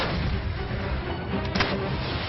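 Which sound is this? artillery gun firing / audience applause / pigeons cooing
artillery gun firing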